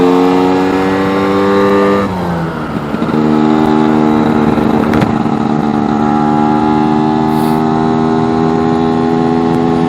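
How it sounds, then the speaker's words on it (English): New two-stroke motorcycle engine warming up, a loud buzzing idle that dips briefly, then rises through the revs slightly and holds a steady higher drone close by. "Up through the revs slightly. Just to get the engine warmed up a little bit."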